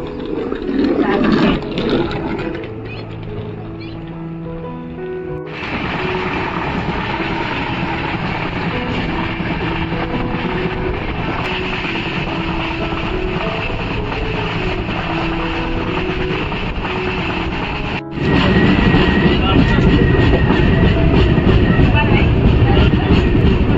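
A Konkan Railway train pulls into Chiplun station, heard from on board as a loud, steady rumble of running wheels with brief tonal squeals and a jolt, then a louder surge of rolling noise toward the end.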